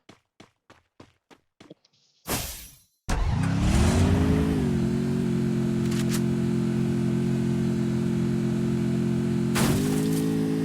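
A Honda car engine starts after a few faint clicks and a short burst, then settles into a loud, steady idle with a brief rev near the end, close by with no talk.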